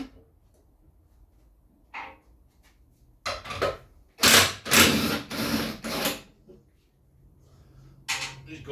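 A powered impact gun rattles in a few loud bursts as it spins off a Land Rover's wheel, with quieter workshop clatter before and after.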